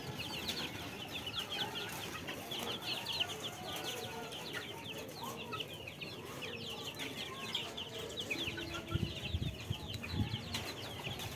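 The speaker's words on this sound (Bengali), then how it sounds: "এগুলো মোরগ নিয়ে সারা মাঠ দৌড়ে বেড়াচ্ছে" Chickens and roosters on a rooftop cluck and call repeatedly at moderate distance, with scattered rustling and a few louder bursts toward the end.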